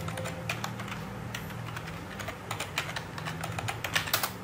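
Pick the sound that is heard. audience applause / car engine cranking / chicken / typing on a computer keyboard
typing on a computer keyboard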